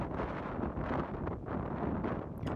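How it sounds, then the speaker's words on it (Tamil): Strong, freezing wind at Millendreath Beach in Cornwall, buffeting the microphone with continuous rough gusts and rumble, steady throughout with no voices. "காற்று பார்த்திங்கன்னா பயங்கரமாக அடிச்சுது"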